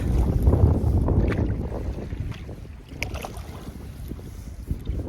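A solo canoe is paddled on a wilderness lake, with close water swishes from the paddle strokes and a heavy wind rumbling across the microphone.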